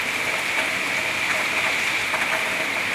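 Heavy, steady evening rain pouring outside a home, a dense continuous hiss of drops on surfaces at an even level throughout, with a few brief brighter patters rising above the wash.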